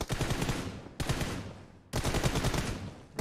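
Three long bursts of automatic gunfire from a team deathmatch tournament video game, each rattling roughly a second, loud and close with sharp onsets and decaying tails, no talking.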